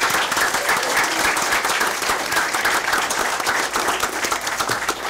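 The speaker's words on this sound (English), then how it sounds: "let's give her a big round of applause" A school district board meeting audience breaks into loud, steady applause, a dense wash of many hands clapping together for about five seconds with no talking.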